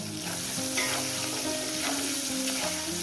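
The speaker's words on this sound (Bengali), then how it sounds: "প্রায় চল্লিশটা মিনিট ভেজে নেবো পেঁয়াজটা" Onion frying in oil for a chicken dish: a continuous, dense sizzle close up, with light stirring noises and no speech.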